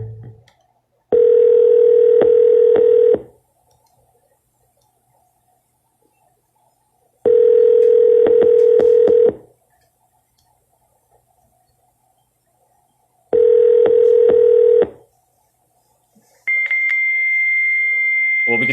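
Telephone tones on a call: three steady two-second tone bursts separated by silences, then a higher continuous tone near the end, clear and close with no talking.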